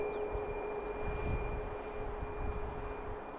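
An Alaska Airlines jet arriving from Seattle at Baltimore BWI, a steady low engine rumble with a faint high whine on top, distant and continuous over a few seconds, no talking.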